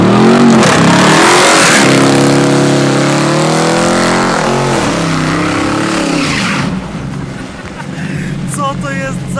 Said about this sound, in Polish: silnik w tym Challengerze to jest potężna V8-ka